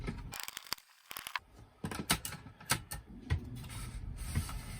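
Small screws being driven back into the cartridge holder mechanism of a Nintendo Entertainment System during a blinking-light repair, giving close, irregular clicks, ratcheting ticks and scrapes with brief pauses between bursts.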